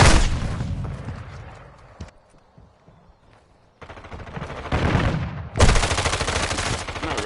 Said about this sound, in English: Oh, was that an automatic? I thought it was a fucking shotgun.